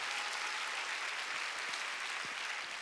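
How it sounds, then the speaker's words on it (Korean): A church congregation at a Wednesday worship service claps together in a steady, dense, even wash of applause that holds at constant loudness throughout. "박수 치려면 지금 말이야"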